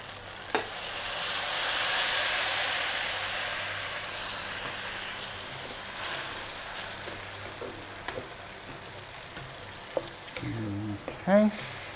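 Pad Thai with shrimp and shrimp flakes frying in a hot pan as the sauce is poured in, a loud steady sizzle that swells then fades, with stirring clatter and brief talk near the end.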